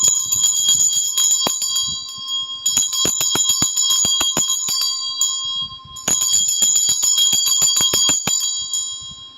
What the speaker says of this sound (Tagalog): I-ring ko lang tong Tibetan bell